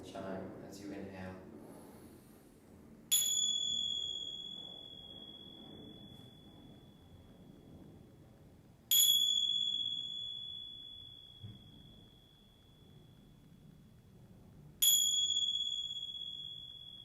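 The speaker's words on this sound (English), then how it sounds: "We're going to listen to the sound of a chime 3 times today." Meditation chime struck three times at slow, even intervals during a yoga class, each bright ring decaying long and clear into near quiet, with soft breathing-room background between strikes.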